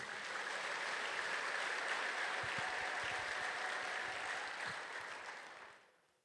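Sustained applause from a church congregation at a sermon, a thick continuous wash of clapping that holds steady for several seconds before gradually tapering off and fading out at the end.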